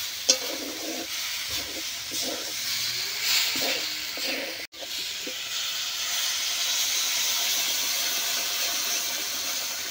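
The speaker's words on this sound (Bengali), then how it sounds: "আবার একটু ভাজা হয়ে গেছে, এবার আমি জল দিয়ে দেব।" Water poured into a hot pan of frying vegetables for a ridge gourd and vegetable dal dish, bursting into a loud, steady, steamy sizzle that hisses on without a break.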